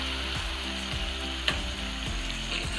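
Spices sizzle and fry steadily in hot oil in a pan, a continuous crackling hiss with faint scraping clicks from stirring, close and without talk.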